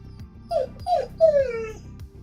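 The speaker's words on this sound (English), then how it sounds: "I have a very sad puppy behind me" Sad puppy whimpering nearby, a few short high whines followed by a longer drawn-out plaintive whimper, alone over a faint low background hum.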